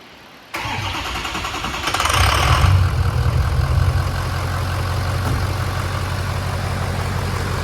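A 6.0 diesel truck engine cranks briefly, catches with a loud rising roar, then settles into a steady, rough diesel idle close to the microphone, with no talking over it.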